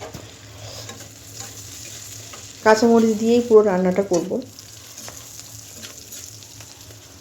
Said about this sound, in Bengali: পেঁয়াজ মরিচটা ভালো করে ভাজা হয়ে গেছে